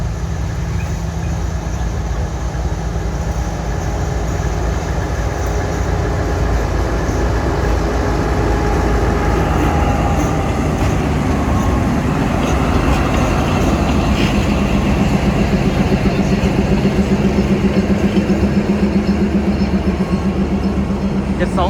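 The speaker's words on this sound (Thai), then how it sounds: "ตอนนี้นะครับเรามาอยู่ที่สถานีคลองไซครับ722 ก็มาพอดีครับตอนนี้" Freight train 722, hauled by a Hitachi locomotive of the State Railway of Thailand, pulls into Khlong Sai station with a loud, steady mechanical rumble that holds for the whole stretch and swells slightly toward the end.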